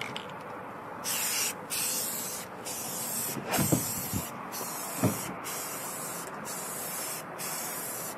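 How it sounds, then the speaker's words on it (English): Satin spray paint hisses from an aerosol can onto a cabinet in a series of steady bursts with short pauses between, close and fairly loud. "For this application, I'm actually just using spray paint, satin color"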